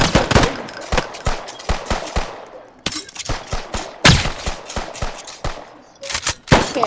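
Automatic gunfire in a Roblox shooter game, rapid repeated bursts of sharp shots with short pauses between volleys, loud and close.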